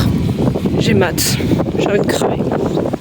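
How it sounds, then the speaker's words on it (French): Rough, blustery wind buffeting the microphone throughout, with a person talking over it. "Et il y a du vent, je suis désolée pour le bruit."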